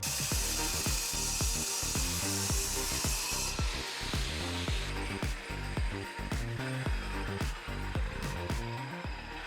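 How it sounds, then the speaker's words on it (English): A power tool grinding during home renovation, loud and close, with a continuous harsh whine broken by rapid regular rattling pulses that persist throughout. "Alright, I'm going to be grinding."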